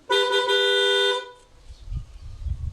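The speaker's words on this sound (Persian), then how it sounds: "خوش یک بوقی بزنم" A car horn gives one firm, steady honk lasting about a second, followed by low rumbling background noise.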